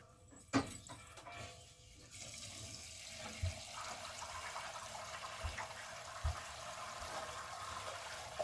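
Water rushes steadily through plumbing with a hollow hiss after a valve is opened, preceded by a few knocks and clunks, faint and continuous.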